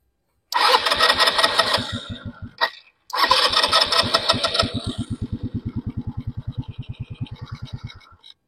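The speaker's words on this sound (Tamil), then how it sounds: "நம்ம வண்டி ஸ்டார்ட் ஆகுதான்னு பார்ப்போம்" Scooter engine mounted in a homemade Formula 1 style car cranks, catches briefly, cuts out, then fires up and settles into a steady, close idle putter.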